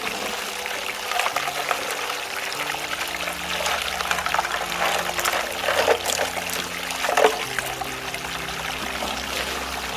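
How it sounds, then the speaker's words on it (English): Water runs steadily through a mini monster gold sluice as rocks are washed on a dry seasonal creek in California's Southern Motherlode, giving a constant close trickling and pouring rush with occasional splashy surges. "We let the mini monster do its job. Wash all the rocks off really well."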